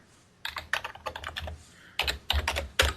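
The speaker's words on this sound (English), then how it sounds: "All I hear is you typing." Quick bursts of typing on a computer keyboard, clusters of close, crisp key clicks separated by short pauses, with no voices over them.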